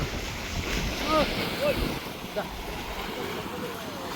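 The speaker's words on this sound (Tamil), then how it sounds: "இதுதான் எங்களோட பருத்தித்துறை பருத்தித்துறை கடற்கரை" Sea waves wash over the shore at Point Pedro beach with a boat nearby, a steady broadband rush with wind noise and a few faint chirps, distant and continuous throughout.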